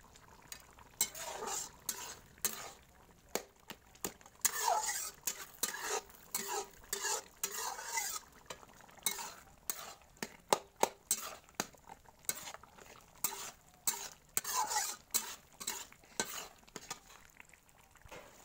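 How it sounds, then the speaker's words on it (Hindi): Fish head masala stirred in a hot frying pan, a busy run of metal spoon scrapes and clinks against the pan over a continuous sizzle, close and fairly steady throughout, with no talking. "ऐसे ही घुमाते रहना चाहिए, जल ना जाए"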